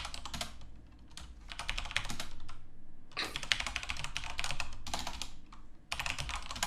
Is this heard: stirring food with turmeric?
no